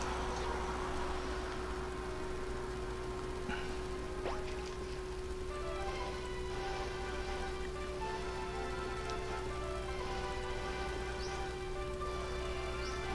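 Steady rain falling on a route in Pokémon X, a constant soft patter with scattered ticks over a low hum of game music, no voices.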